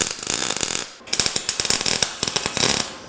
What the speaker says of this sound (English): I'm building the weld from underneath up and letting it catch that metal.